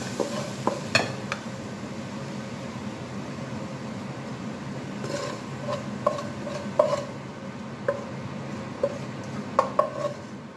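Food is scraped and spooned from a pan onto a plate, with scattered light clinks of utensils on cookware over a soft steady sizzle, several sharper taps clustered near the end.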